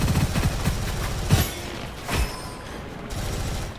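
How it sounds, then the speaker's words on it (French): A grenade bursts amid continuous submachine gun fire in the shooter game Gunfire Reborn: steady loud shooting with a couple of heavier booms punching through, then a slightly thinner tail. "On va lancer une petite grenade là-bas."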